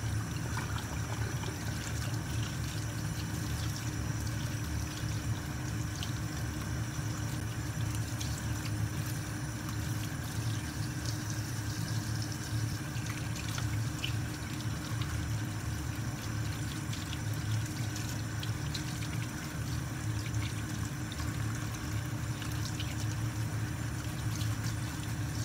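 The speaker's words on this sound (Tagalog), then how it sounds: "i-drain ang snail at hugasan ulit" Steady stream of water pouring and draining while snails are rinsed in a kitchen, a continuous splashing wash of sound without a break.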